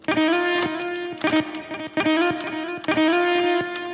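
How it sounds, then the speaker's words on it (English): Electric guitar notes and chords with reverb at maximum ring out with a heavy, washy tail, each strum blooming and lingering into the next. "Let's just try to check what max reverb."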